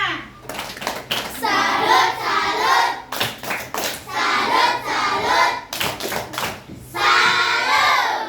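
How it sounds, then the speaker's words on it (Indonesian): Bursts of lively hand clapping from a group of children, several rounds separated by brief pauses and cheerful voices. "Tepuk tangan buat semua."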